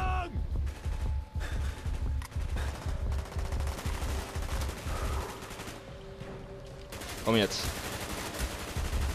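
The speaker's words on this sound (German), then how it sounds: "Die schießen ja alle auf mich" Rapid bursts of automatic gunfire and single shots from Call of Duty: Black Ops, dense and repeated through the whole stretch with explosions, while someone talks briefly over the shooting.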